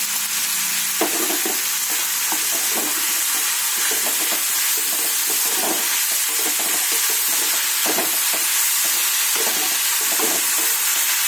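Vegetable thoran frying in a pan and stirred steadily, with a continuous close sizzle broken by repeated scraping strokes of the spoon.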